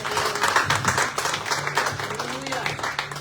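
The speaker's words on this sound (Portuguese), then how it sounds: "Se você crê, aplauda ao Senhor" A congregation at a church service applauding steadily, dense overlapping claps filling the room, with voices and a low hum running underneath.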